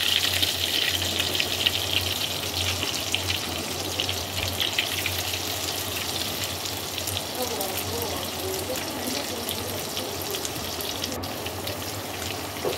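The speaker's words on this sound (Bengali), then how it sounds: "এবার এগুলোকে ভালো করে ভেজে নেব" Soya chunks frying in oil in a kadai, giving a steady, dense crackling sizzle that runs without pause close by, with a voice speaking now and then over it.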